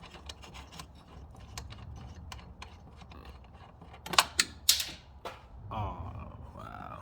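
A ratchet fitted with a 14 mm socket works a battery terminal nut on a 2007 Yukon Denali XL, giving quiet rapid clicking pawl sounds and a few sharper metallic clacks near the middle.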